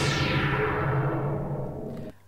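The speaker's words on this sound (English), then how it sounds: "I remember I added a thunder sound effect off a sample CD." Thunder sound effect from a sample CD processed with a comb filter, a loud, sustained rumbling wash with a downward-sweeping, ringing tone that fades and cuts off near the end, heard alone.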